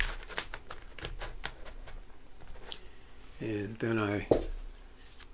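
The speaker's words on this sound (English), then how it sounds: "do some overhead shuffling" Runic tarot cards shuffled by hand in a repeated run of quick riffling, papery flicks and taps, close and moderately loud, with someone talking over part of it and card handling continuing beneath his voice.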